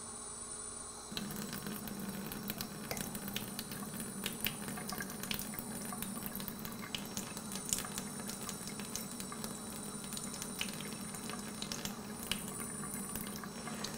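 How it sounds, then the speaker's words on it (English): Running tap water rinses through natural sausage casing to flush out salt, a steady close gushing and bubbling wash that holds level for the whole stretch with no talk. "you want to get the water into the casing. And what you're trying to do now is flush any salt that's inside the casing out"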